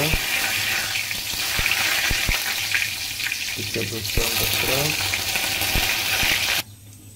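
Onions fry in hot oil in a pan, a dense loud sizzle with occasional clacks of a utensil against the pan, close up and continuous until it cuts off near the end.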